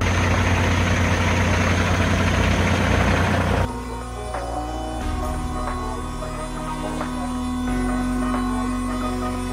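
A diesel semi truck idles close by with a loud, steady, rough engine rumble that cuts off after about three and a half seconds, leaving a much quieter, calm interior.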